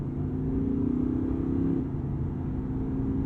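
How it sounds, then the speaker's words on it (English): Audi R8 supercar with its V10 engine held low in the rev range while driving, a steady, subdued drone with a low harmonic hum that shifts slightly in pitch, close and continuous, no talking. "the V10 motor in the lower part of the rev range stays subdued"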